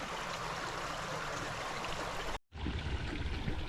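Deer Creek in Maryland flows steadily as a constant, close rushing and trickling of water, with a brief cut in the middle before the same flow resumes.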